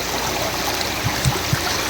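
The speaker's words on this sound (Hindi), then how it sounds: "खूबसूरत वाटरफॉल, पानी का नज़ारा चेक करें माशाल्लाह।" Water streaming at Malaach waterfall along Thandiani Road in the hills near Kuthwal, a steady broadband rush with a few soft low splashes, continuous and fairly close, with no voices.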